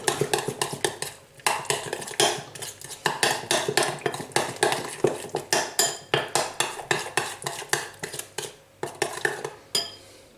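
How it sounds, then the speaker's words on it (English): Spoon stirring brown sugar and smoked paprika in a bowl for pulled pork BBQ sauce, scraping and clinking in quick, rhythmic strokes, close and fairly loud, with no voices. "I'll just give that one stir through."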